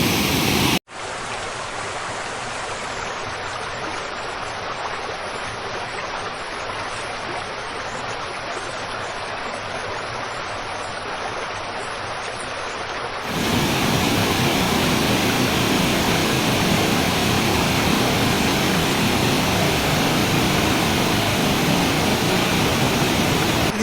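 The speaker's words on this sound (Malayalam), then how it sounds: "അയ്യോ, കില്ലാടി തന്നെ, കില്ലാടി വെള്ളച്ചാട്ടം." Vadattupara waterfall near Kothamangalam roars as a constant, dense wash of rushing water over rock. It gets suddenly louder and fuller partway through and stays strong until the end.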